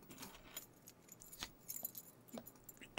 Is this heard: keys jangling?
yes